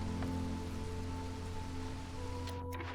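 Drizzle geyser in the video game Against the Storm: a steady, close hiss of falling rain pattering on surfaces, with a faint low drone running underneath throughout.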